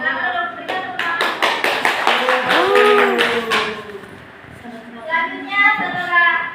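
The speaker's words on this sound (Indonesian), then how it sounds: "silakan berikan tepuk tangan" A class gives a round of applause during a microteaching lesson, a few seconds of brisk, close clapping from a small group, with voices talking over it and continuing after the clapping stops.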